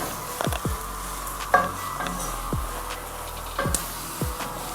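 Fish soup boils in a pot, giving a steady bubbling sizzle with a few sharp clanks and scrapes of utensils against the pot. No voices.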